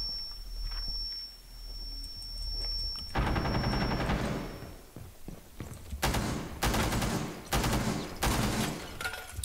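Light machine gun fire in Rainbow Six Siege during a Blood Orchid terrorist hunt: after a quiet hum, a loud sustained burst rips out, then several more heavy bursts follow in quick succession, close and sharp.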